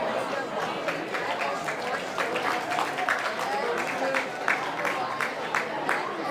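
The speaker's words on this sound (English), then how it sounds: "One more round of applause to the band and cheer seniors." A crowd at a high school varsity football game applauds the band and cheer seniors with sustained clapping. Scattered cheers and chatter run under it at a steady, moderately loud level.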